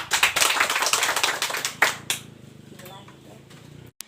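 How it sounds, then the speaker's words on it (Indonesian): Classroom applause for a student discussion group, dense clapping from many hands for about two seconds, then thinning to a few scattered claps and quieter room sounds, with voices faintly underneath. "mari kita berikan aplaus kepada kelompok 2"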